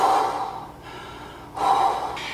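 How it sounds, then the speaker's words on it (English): A person takes a deep breath, a loud close inhale, then a pause and a second breathy gust, with no talking. "let me take a breath real quick"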